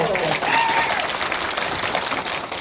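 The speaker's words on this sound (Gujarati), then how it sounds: "જોરદાર તાળી વગાડો." Steady applause from an audience at an Aam Aadmi Party political speech in a village, loud and continuous throughout with crowd noise and no clear talk over it.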